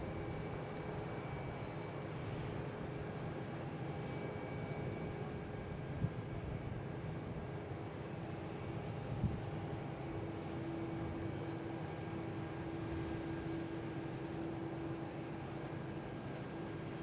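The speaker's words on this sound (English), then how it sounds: "We have American Airlines taking off, heading to" An American Airlines airliner takes off from Boston Logan International Airport, bound for LaGuardia, heard as a steady, distant jet roar with a faint whine that holds evenly throughout, with no voices.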